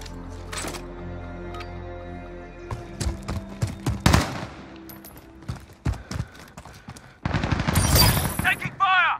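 Bursts of automatic and single-shot gunfire in a Call of Duty Modern Warfare 2v2 match, loud and sharp, firing in irregular clusters with a sustained burst near the end.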